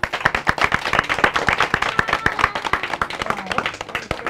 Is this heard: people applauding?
yes